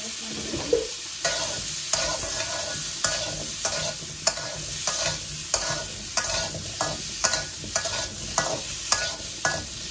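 Potatoes fry in hot oil for a rural Bengali vegetarian dish, a steady sizzle running throughout while a spatula scrapes and stirs in regular strokes, close and fairly loud with no talking.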